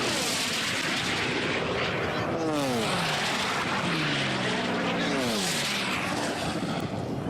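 Unlimited class racing airplane Dreadnought roaring past at the Reno Air Races: a loud, continuous propeller-engine blast with a rough crackling edge and a falling pitch as it sweeps by, heard from fairly close.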